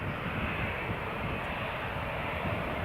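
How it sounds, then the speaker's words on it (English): A British Airways airliner at Newcastle Airport, heard as a steady, loud, broadband engine roar that holds constant throughout with no talk over it. "There goes the British Airways."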